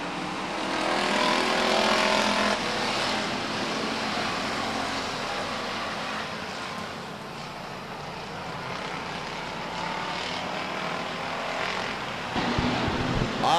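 Pure stock division race cars roaring off together at a green flag start at Stockton 99 Speedway in 1999, a loud, dense, sustained wall of engine noise from a 20-car field that swells and holds steady.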